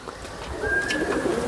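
A teddy pigeon kept by a pigeon fancier coos close by, a soft low throaty call running through the second half, with faint background noise and no talk.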